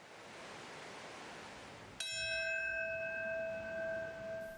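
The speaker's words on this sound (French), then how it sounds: "La cloche sonne pour débuter une minute de silence" A single bell strikes once with a bright, ringing tone that lingers and slowly decays, following a soft wash of crowd and outdoor noise at a September 11 memorial ceremony in the United States.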